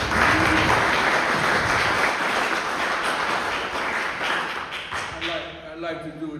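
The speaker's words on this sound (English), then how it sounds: "And another round of applause for Warren Ogree." Applause rises for a jazz performer at a live event, loud at first and then thinning into scattered claps, with a voice talking over the fading end.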